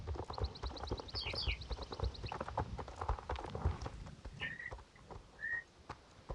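Horse hooves clip-clop at a walking pace in the Star Stable video game, a steady rhythmic tread close by, with short whistle-like chirps and bird calls layered over the top.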